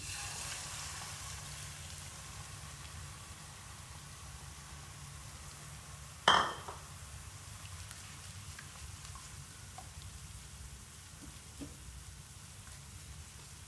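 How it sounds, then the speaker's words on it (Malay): Eggs sizzle in a hot pan while being sautéed for lumpia filling, a steady soft crackle throughout with one sharp clatter partway through. "Kita nak tumiskan telur kat sini."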